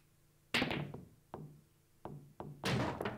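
Billiard balls knock together in a Kamurocho pool game from Yakuza, with several sharp separate clacks and thuds spaced apart, the last one loudest.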